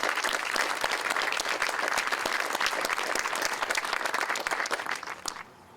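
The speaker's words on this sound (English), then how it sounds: "So if we could have a round of applause for those two gentlemen." Dense, loud audience applause at a school district ribbon cutting ceremony, many hands clapping steadily before tapering off and dying away near the end.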